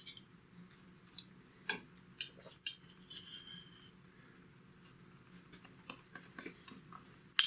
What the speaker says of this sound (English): take some of that mayonnaise and spread it on this side